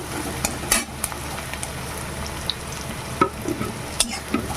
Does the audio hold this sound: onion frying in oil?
yes